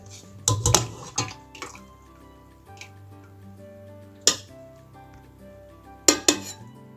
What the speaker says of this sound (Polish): Pomarańcze ugotowane wyjmujemy z wody i studzimy.